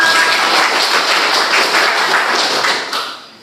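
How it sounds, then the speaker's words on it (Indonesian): A class at a group guidance session claps together, a dense, loud burst of applause that holds steady and then tapers off at the end. "tepuk tangan untuk kita semua"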